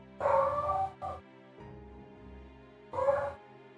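Dogs give a few short barks and yips, two clear bursts a couple of seconds apart with a softer whine between, fairly close and alone.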